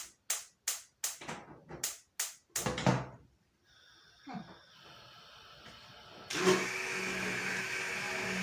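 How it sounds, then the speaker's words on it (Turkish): After a run of sharp clatters and bangs, a blender whirs up on hot soup in a kitchen. The motor starts, drops back and then roars steadily and loudly close by. "Hemen blenderlayayım."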